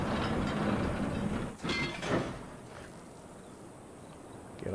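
Mechanical rumbling and clanking of a rail car arriving in the video game Riven (2024 remake), with ratcheting, grinding bursts in the middle, then a steady low drone.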